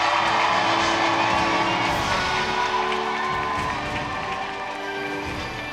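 A large audience at a world peace commemoration ceremony applauds and cheers, with sustained clapping, whoops and crowd shouts that stay loud, then ease slightly toward the end.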